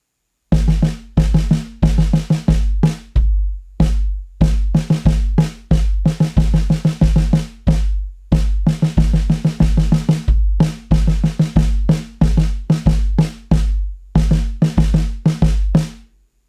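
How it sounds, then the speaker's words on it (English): A drum kit plays a rapid run of sixteenth-note snare hits over a quarter-note bass drum pulse, a worship-style practice groove, close and loud, repeating in short bursts with brief gaps between phrases. "this one is now the 16th note snare drum piece, and we're going to apply the quarter notes in the bass drum"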